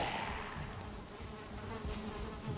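Flies buzz in Valheim with a faint, steady insect drone that hovers at low level throughout, close but quiet, with no talking.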